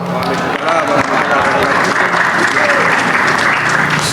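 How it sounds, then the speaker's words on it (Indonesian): Applause from a seated audience at a religious talk and Q&A session fills the whole stretch, dense, loud and continuous, with faint voices mixed into the crowd noise. "kita kasih tepuk tangan yang sekalian untuk para penanya-penanya tadi"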